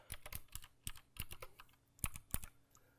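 Keys on a Chromebook keyboard being typed in an irregular run of crisp, close clicks and taps with short pauses between bursts, with no talking.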